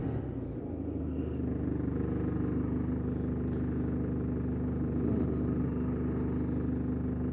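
A Peugeot Boxer III van's 2.2 BlueHDi diesel engine runs with a steady low rumble and slight rise in pitch as it is revved, fairly close, under faint background noise.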